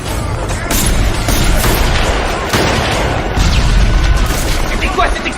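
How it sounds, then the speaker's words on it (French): A grenade explosion sound effect from a 2022 vampire film: loud, rumbling blasts that roll on and repeat, with sharp bursts cutting in near the middle and toward the end. "Grenade explosive dans la tête!"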